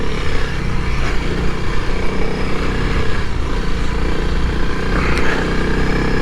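A Honda CRF300L dual-sport motorcycle rides through soft sand off-road, its engine droning loud and steady with small surges in revs. There is no talk.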